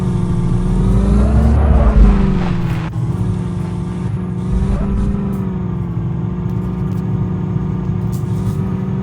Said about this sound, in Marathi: आता करूया बुलेरो पार्क.